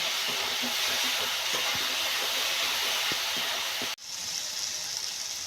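Spice paste of cumin and coriander powder sautéing in a pan in a village kitchen, giving a steady, dense sizzle and hiss throughout with no talking.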